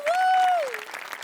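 An audience at a comedy stage show claps steadily, a dense patter of many hands under a drawn-out voice that rises and then falls away.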